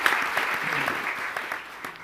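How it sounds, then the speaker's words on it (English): Applause from an audience at a community forum on race, culture and religion, a steady crackle of clapping hands heard fairly close for a brief stretch, with no voices standing out. "Please help me give them a round of applause"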